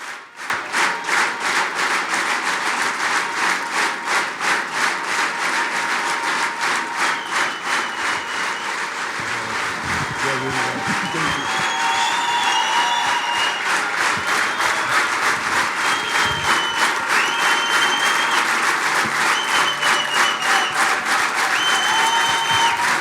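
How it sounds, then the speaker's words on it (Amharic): A church congregation claps heavily in welcome for a preacher, a loud, sustained wash of applause with rhythmic pulses that runs for over twenty seconds, with faint cheering and tones rising over it midway. "የእግዚአብሔርን ሰው በከባድ ጭብጨባ እያጨበጨብን ወደዚህ እንቀበላለን"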